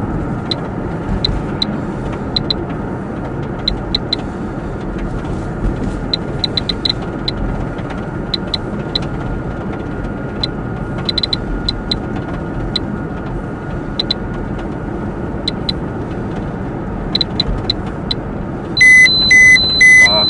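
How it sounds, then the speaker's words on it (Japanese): Car traffic moves on a road near the Fukushima Daini nuclear plant inside the evacuation zone. The steady road noise holds throughout, broken by faint intermittent beeps and a louder beeping burst at the end. "まだ車走ってるよ"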